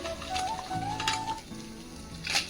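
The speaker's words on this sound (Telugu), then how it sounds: "ఇప్పుడు ఇందులో మనము ఎండుమిర్చి వెల్లుల్లి వేసుకుందాం" Dried red chilies and garlic drop into hot oil for a tomato cabbage chutney and set off a short, soft sizzle with faint crackles and pops. A brief clink sounds near the end, with no talk.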